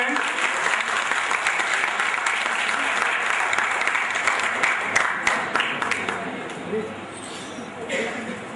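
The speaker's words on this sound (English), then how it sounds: "Can we have a big round of applause, ladies and gentlemen?" Sustained audience applause at a 2013 MBA farewell event at I.T.S Mohan Nagar, a dense, steady wash of many hands clapping that fills the room and eases off slightly near the end.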